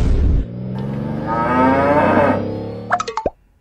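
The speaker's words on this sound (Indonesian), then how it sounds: "Sapi limosin itu adalah salah satu jenis sapi lah" A Limousin cow lets out one long, loud, close moo that rises and swells, followed by a few short wet plopping sounds as it fades.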